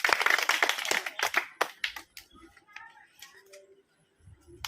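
Several sharp hand claps burst out close by in a quick, uneven cluster from a group of people during a number-guessing challenge game, then fade into quieter scattered sounds and faint voices.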